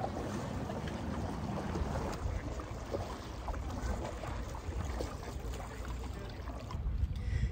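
Paddling a folding Oru kayak on a lake, with a steady wash of water and wind noise and soft paddle strokes running the whole time, and no talking.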